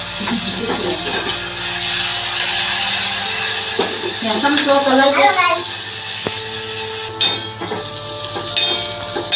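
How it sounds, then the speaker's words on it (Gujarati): Hot green chillies sizzle and crackle loudly in hot oil, with stirring sounds and a voice speaking over the frying. "મરચાં તળવાના છે"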